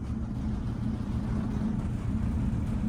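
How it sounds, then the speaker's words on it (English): A garbage truck collecting trash close by in a quiet desert setting gives a steady, loud low engine rumble that drones on without a break. "I turned to see a garbage truck collecting my trash"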